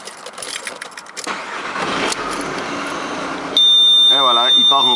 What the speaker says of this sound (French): Et on va démarrer maintenant le véhicule